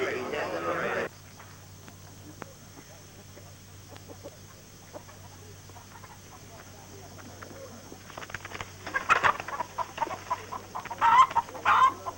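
Chickens clucking and squawking in a busy cluster, growing louder and more agitated toward the end, with a steady hum underneath.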